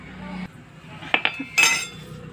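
A utensil clinks against a vessel while buffalo milk, cow colostrum and powdered sugar with cardamom are mixed. A few sharp metallic taps and a brief scrape sound up close, with short pauses between them.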